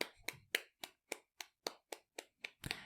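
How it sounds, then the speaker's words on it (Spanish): About ten separate hand claps in a steady, evenly spaced rhythm, crisp and close, ending in a brief flurry of several overlapping claps. "Un aplauso para el lenguaje."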